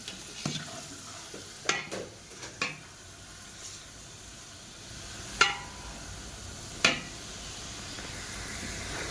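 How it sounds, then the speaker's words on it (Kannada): Tomato gravy sizzles steadily in a pan while a spatula scrapes and stirs through it in several distinct strokes. "ಈಗ ಟೊಮೊಟೊ ಚೆನ್ನಾಗಿ ಫ್ರೈ ಬಿಡಿ"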